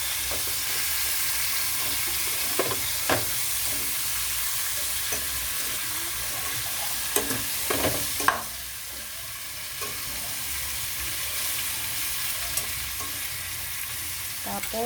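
A pork chop fries in oil with browned garlic and onion, giving a steady close sizzle, with occasional clacks and scrapes as it is stirred and no talk.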